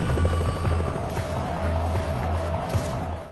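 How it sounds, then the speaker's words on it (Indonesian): Helicopter belonging to the DeepSeek company drawing closer toward a ravine, a steady low rotor drone with a faint engine whine holding at even loudness throughout, with no speech over it. "helikopter milik perusahaan DeepSeek mulai mendekat ke arah jurang"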